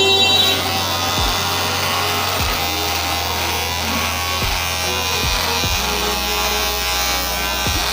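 An electric beard trimmer buzzes steadily and close up while shaving facial hair, a continuous motor hum with several brief dips and pulses as the blade moves across the beard.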